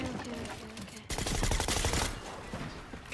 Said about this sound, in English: he's shooting at me right now